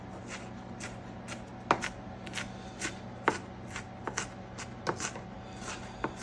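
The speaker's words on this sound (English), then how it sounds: "Let me finish, chop this a little bit finer." A knife chops food finely on a cutting board while making American chop suey, giving a steady series of sharp, close taps over a low kitchen hum.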